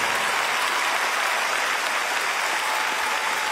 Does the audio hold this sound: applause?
yes